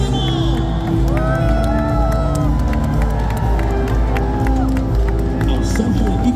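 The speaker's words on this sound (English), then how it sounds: "let's wave our flags and cheer them on" A big outdoor crowd at the 2025 Singapore National Day Parade cheers and shouts steadily over a low droning rumble, with whoops and children's shouts rising through the constant wall of noise.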